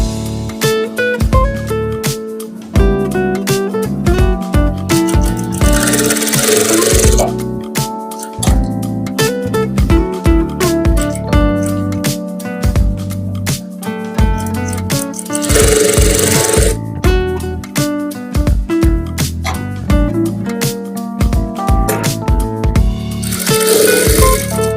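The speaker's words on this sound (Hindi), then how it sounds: "इस तरह हम सिलते हुए दोनों पार्ट को अटैच कर लेंगे।" A sewing machine stitching the front and back pieces of a princess cut blouse together, with a rapid steady mechanical rattle running continuously and loudly up close, in repeated stretches.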